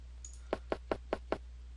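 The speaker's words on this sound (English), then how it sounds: "The only response you get is the echo of your pounding." Knocking on a door in the King's Quest I VGA remake, five evenly spaced solid knocks after a brief high chime, clear and close with a steady low hum beneath.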